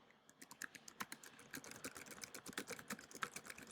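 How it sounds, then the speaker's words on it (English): Quick, irregular tapping of keys on a computer keyboard, close by and fairly quiet, with no talking. "right now I am just typing lines to show you an example"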